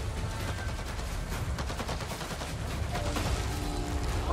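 Gunfire from enemy machines in Avatar: Frontiers of Pandora, a dense continuous roar of rapid shots and heavy impacts filling the whole stretch, loud and with no talk over it.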